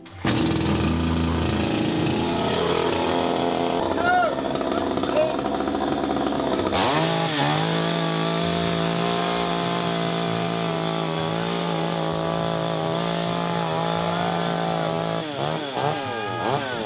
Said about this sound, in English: Try not to flail your hands into the chainsaw.